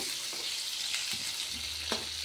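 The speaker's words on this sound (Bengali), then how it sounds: "এখানে জিরে তেজপাতা ফোড়ন দিয়েছি" Cumin seeds and bay leaves sizzle steadily in hot oil as a tempering for a fish curry with potato and pointed gourd, a constant hiss with a few faint stirring taps.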